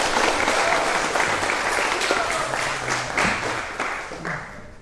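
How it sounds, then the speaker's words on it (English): Audience applause filling a hall, loud steady clapping from a large crowd that gradually thins toward the end. "So give yourselves a round of applause."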